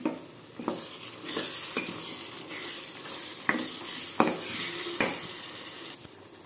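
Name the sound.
raw prawn curry simmering in a pan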